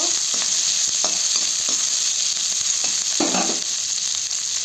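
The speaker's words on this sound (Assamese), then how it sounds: "মই ইয়াতে আপোনাৰ পিঁয়াজ আৰু এই জলকীয়াখিনি যে কাটি থৈছিলোঁ এইখিনি দি দিওঁ এইখিনি ভালকৈ লাৰি ল'ব" Chopped onions and green chillies sizzle and fry in a little oil in a pan for a chicken dry fry, a steady loud hiss broken by a few scraping stirs, with no talking.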